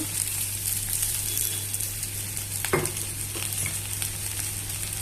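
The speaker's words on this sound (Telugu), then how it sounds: "ఉల్లిపాయలతో పాటు వంకాయలు కూడా వేగుతాయి" Brinjal pieces and onions fry in a pan with salt, turmeric and chilli, giving a steady, close hiss of sizzling oil that runs throughout, broken by a few brief stirring scrapes and knocks.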